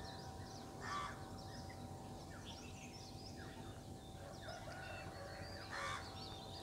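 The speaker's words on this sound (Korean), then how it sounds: "새소리, 닭소리 들리고 있습니다." Birds and chickens call intermittently over a steady background hum at about 2160 m in the Nepal hills at dawn, with a couple of louder caws or crows standing out near the start and end.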